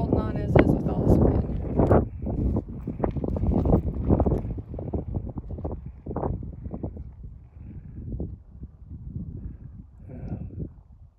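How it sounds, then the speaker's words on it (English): Strong wind at a Badlands National Park overlook in South Dakota buffets the microphone in loud, continuous low rumbling gusts, with a person talking over it. "I'm barely holding on as is with all this wind."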